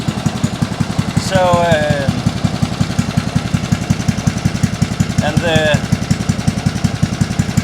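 A small engine on a homemade trackless train runs steadily at a fast, even putter, loud and close, with someone speaking briefly over it twice.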